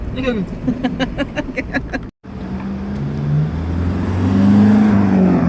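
A car climbing Kennon Road toward Baguio, its engine drone loud and close inside the cabin and rising steadily in pitch. A voice talks over the first half, then cuts out briefly.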